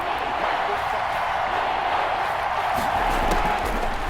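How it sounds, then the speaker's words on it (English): Steady broadband roar of a stadium crowd in Madden NFL 21, Raiders versus Buccaneers on a hot, muggy night, building ahead of a big third down, with a constant wash of noise and a slight swell near the end. "The crowd getting into it as we come up on a big third down."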